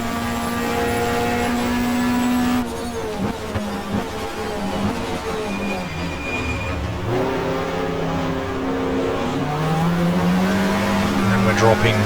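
A GTR2-class race car in the 1994 Australian Manufacturers Championship at Mallala, its engine droning loud and steady down the straight, the pitch sliding up and down with gear changes, no talk over it.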